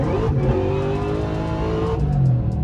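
A modified Cadillac CTS-V accelerates hard on the road with a loud, steady engine roar. The pitch climbs and shifts as it gains speed, heard from inside the car.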